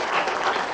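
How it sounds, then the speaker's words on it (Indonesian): Short, loud burst of congregation applause in a church during a sermon, dense clapping from many hands with no gaps. "Mari kita beri tepuk tangan."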